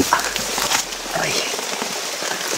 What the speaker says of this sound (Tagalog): Ang lakas na ng ulan.